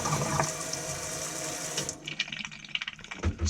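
Water gushes hard from a repaired sink faucet inside a converted school bus, a steady forceful spray splashing into the basin for about two seconds before it eases into irregular trickles and drips.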